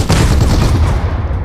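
Heavy tank cannon and gunfire in PUBG Mobile, a dense, loud barrage of booming blasts and rattling shots filling the whole moment with no voices.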